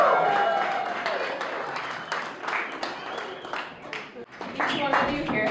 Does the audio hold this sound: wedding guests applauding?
yes